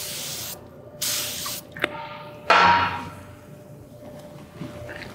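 WD-40 lubricant sprays in short hissing bursts onto valve threads and an adjusting nut during a low torque valve rebuild, with a few small knocks and clicks between sprays, close and fairly loud.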